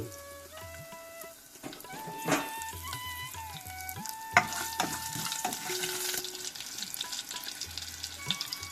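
Mustard seeds and chillies crackle and splutter in hot oil, a steady sizzle with sharp pops and a stirring clatter, close up, no talk.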